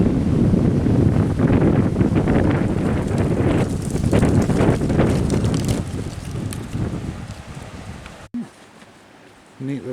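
Strong wind gusts buffet the microphone at Mantle Rock Nature Preserve, a loud, rough roar for several seconds that then drops away to quieter air.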